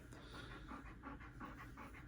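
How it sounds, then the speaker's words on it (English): A dog panting heavily nearby in a quiet room, quick rhythmic breaths in and out, about six or seven cycles, soft and steady with no talking. "God, you breathe heavy, dog."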